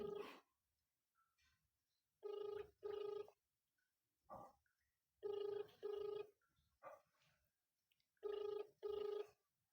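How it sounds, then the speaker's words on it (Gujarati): A phone ringing unanswered on an outgoing prank call, paired electronic ring tones repeating in regular cycles over a line, with faint murmured voices in the gaps between rings. "રિંગ જાય છે મિત્રો ફોન જ ઉપાડતા નથી"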